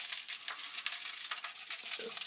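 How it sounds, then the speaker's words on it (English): Steady, bright crackling sizzle of sausages frying in a pan, continuous and close, with no voices. "You can hear them sizzling."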